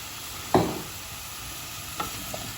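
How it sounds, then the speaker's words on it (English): Apples with lemon juice cook gently in a pan over medium heat, a quiet continuous sizzle with a single distinct stir or scrape early on and a few lighter touches later, no voices. "On a medium heat, I'm going to cook these apples for about 10 minutes"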